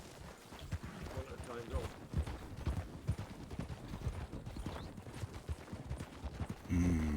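Horse hooves clip-clop in Red Dead Redemption 2, a quick, uneven run of close thuds under a voice.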